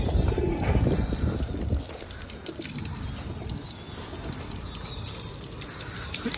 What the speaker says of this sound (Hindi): देखिए माशाल्लाह ये कबूतर है